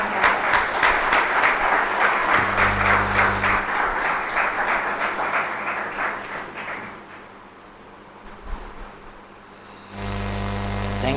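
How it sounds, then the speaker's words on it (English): An audience at a lecture on Haṭha Yoga claps steadily for several seconds before the applause thins and fades, leaving a low hum; a brief loud burst returns near the end. "Let's join our hands and applaud for him"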